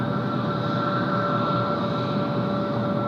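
A Qantas Airbus A321neo jet passing at Sydney Airport, a loud steady roar of engine rumble and broad noise carrying a faint high whine, with no voices.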